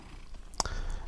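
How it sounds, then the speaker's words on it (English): A cat lying close by gives a soft, low purr, a brief rumbling burst with a faint click in the middle, quiet and near. "she is lying right beside me having a good old purr"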